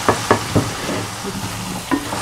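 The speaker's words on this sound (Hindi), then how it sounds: "अब इसमें मैं डालूँगा दाल, माश की दाल जो मैंने 1 प्याली यानी 1 कप जो है वो मैंने इसको बॉईल कर लिया है।" Boiled mash dal goes into hot, sizzling masala with a few quick stirring scrapes and clatters over a soft frying hiss, close and fairly loud.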